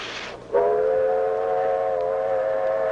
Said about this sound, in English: A distant blast of the whistle could be the call of destiny